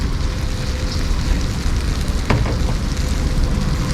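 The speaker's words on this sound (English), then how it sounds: "You guys can tell they just made it, and it's just sizzling." Freshly made tandoori dish sizzling hot at a halal restaurant table, a steady close hiss and crackle running continuously with a few sharper pops.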